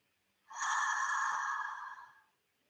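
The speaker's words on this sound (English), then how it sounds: "Breathing out, belly goes down." A person breathes out slowly in a single long, soft, breathy exhale lasting over a second, close and quiet, with no talking.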